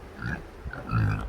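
Pigs in a pen give a few short, low grunts close by, in quick irregular bursts with no talk.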